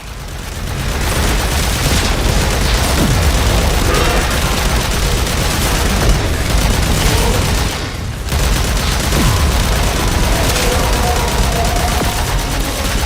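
Warframe combat erupts as grenade blasts and rapid gunfire pound together in a dense, loud, nearly unbroken barrage, with only a brief dip before it surges back.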